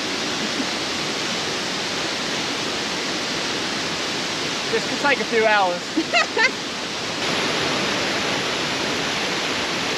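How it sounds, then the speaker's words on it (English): Four waterfalls in North Bali pour into a single river, a loud, steady rushing roar that fills the whole scene, while a person speaks briefly over it. "We're surrounded by four waterfalls and they all flow into one river."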